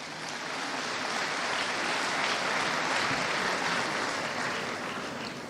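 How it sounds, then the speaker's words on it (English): A large audience at the 53rd annual accountants' conference in Nigeria applauds, a dense, sustained wash of clapping that swells slightly in the middle and holds steady with no voices over it. "So we need to clap for ICAN."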